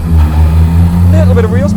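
VW Fox car engine pulling hard at low revs, a loud steady drone with rising harmonic tones as it accelerates, close and continuous inside the cabin.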